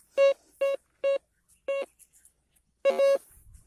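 A series of short electronic beeps from a Terminator Pro 2 or Groza 6 PRO metal detector, five evenly spaced then a longer double tone, fairly loud against near silence.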